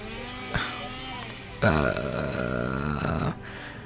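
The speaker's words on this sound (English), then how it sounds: "As he uses a chainsaw." A chainsaw revs during a surgery scene in a video game, a loud buzzing roar cutting in halfway through and droning steadily for under two seconds before stopping abruptly.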